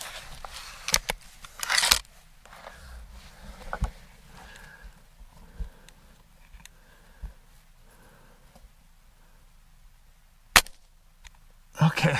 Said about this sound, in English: Take another shot.